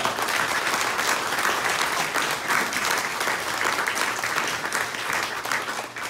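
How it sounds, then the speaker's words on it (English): Veterans at a Vallejo dinner applaud themselves, producing continuous dense clapping that holds at an even, full level from start to finish. "So please, give yourselves a round of applause for counting that."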